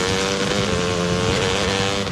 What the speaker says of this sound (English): You wouldn't ride your dirt bike blindfolded.